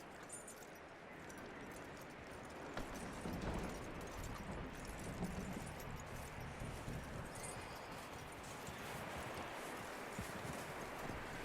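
Horse hooves clip-clop steadily against a dense, noisy background in Red Dead Redemption 2, the rhythm continuing throughout at a moderate distance.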